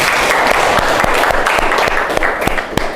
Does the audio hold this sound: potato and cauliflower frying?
no